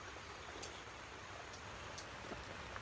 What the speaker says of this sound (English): It has been raining for some time.